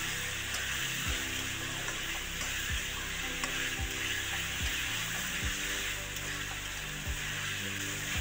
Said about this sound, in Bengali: দেন ভালো করে নাড়াচাড়া করতে হবে। একটু ভাজা ভাজা করে নিচ্ছি।